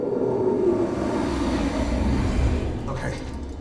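A high-speed bullet train from a film soundtrack runs with a loud, continuous low rumble and rushing noise that eases slightly toward the end, with no clear speech.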